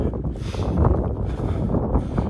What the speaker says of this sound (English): It's a bit windy today, but it beats being in work, doesn't it?